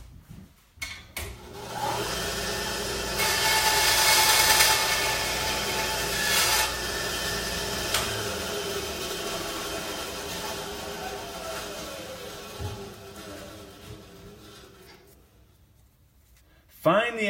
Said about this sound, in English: Find the angle and sand it to fit the hopper.